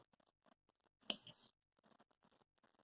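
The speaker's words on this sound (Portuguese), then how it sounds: "a gente pode puxar o fio e cortar" Crochet yarn snipped with scissors: faint light clicks and rustles of handling, then one sharp close cut near the middle, followed by more quiet fiddling.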